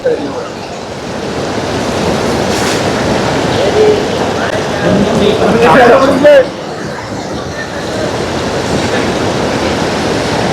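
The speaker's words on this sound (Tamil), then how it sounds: "இங்கே பாருங்க வான்கதவால தண்ணி எப்படி பாயுதுன்னு." Water surges through a reservoir spillway gate in a forested area, a loud, continuous roaring rush close by, with people talking over it.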